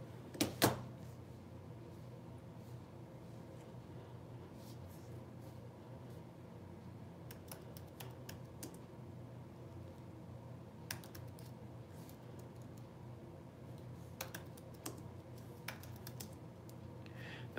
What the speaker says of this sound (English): Let me get my keyboard.